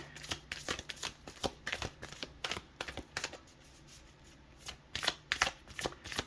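A Moonology oracle card deck is shuffled up close in a quiet room, with quick, crisp riffling bursts of cards in repeated clusters separated by brief pauses.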